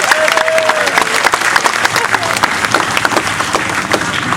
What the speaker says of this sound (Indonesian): Tepuk tangan semuanya untuk Mas Chandra.